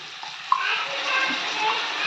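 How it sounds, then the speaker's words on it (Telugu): Water poured into a pan of tamarind flower curry makes a steady close-up gushing splash lasting the whole moment, with a small clink near the start. "కొంచెం వాటర్ వేసి"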